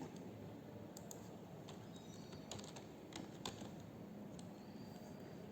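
Typing on a computer keyboard, entering notepad into a Windows Run dialog box: a quiet, uneven run of soft key clicks over a steady background hiss, with no voice.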